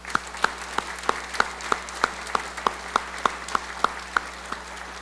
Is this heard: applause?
yes